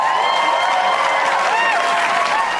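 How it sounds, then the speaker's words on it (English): An audience bursts into loud cheering and whooping with applause mixed in, sustained and close, with excited voices rising and falling over the clapping. "Applause"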